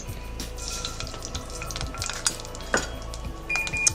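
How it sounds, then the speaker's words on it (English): Mustard seeds pop in a hot pan with scattered crackles and sharp pops over a steady frying sizzle, plus occasional clinks of a utensil against the pan. "you want the mustard seeds to pop kind of like popcorn. And they're popping quite nicely."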